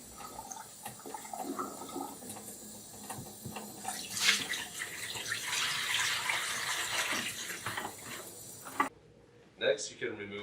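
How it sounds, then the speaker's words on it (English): Liquid waste being poured out of the emptied liquid bin of a Necta Opera Touch coffee machine, a steady splashing gush lasting several seconds with a brief rattle near the end. "Empty the liquid bin."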